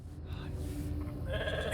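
A sheep in the video game The Alters bleats softly beneath steady game ambience and a low background hum, the call faint and drawn out rather than sharp.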